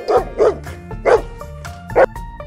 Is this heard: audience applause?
no